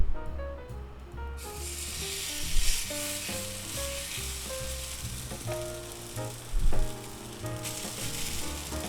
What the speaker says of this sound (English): Now we just add our instant potato ham mixture with the cheese and all that good stuff in there